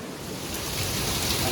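Heavy rain pouring down in a steady, dense roar, loud and close, with a continuous washing hiss that swells slightly toward the end and no voices.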